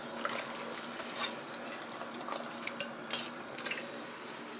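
A pot of spinach being blanched in water is stirred, giving soft, intermittent clinks and scrapes of a utensil against the pot over a quiet watery background, with no talking.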